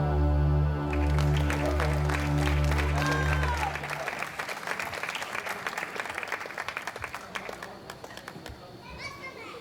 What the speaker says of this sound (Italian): Bell'applauso alla chitarra.